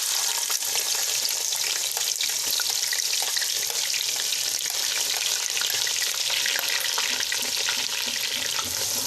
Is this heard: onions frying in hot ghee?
yes